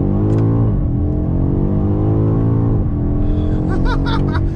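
BMW X5 M Competition accelerating hard, engine note rising in pitch through two gear pulls with a brief dip between, loud and close, with a short burst of excited voices near the end.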